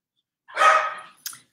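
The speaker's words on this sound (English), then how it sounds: "Barking." A single close, sharp dog bark followed by a brief fainter yip, then silence.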